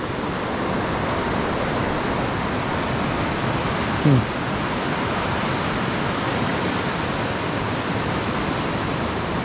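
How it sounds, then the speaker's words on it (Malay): Fast-flowing river water rushes in a loud, steady, broadband roar that holds evenly throughout, with a brief voice cutting in about halfway. "Air dia agak laju sikit lah."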